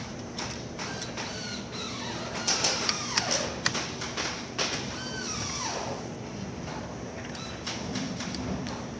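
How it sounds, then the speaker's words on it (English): A wrench working the two bolts off the plate of a Nightingale 3D chair arm pad, making close, faint ratcheting clicks and metallic scraping in irregular bursts over a quiet room hum, with no talk. "it simply needs a wrench to remove the 2 bolts."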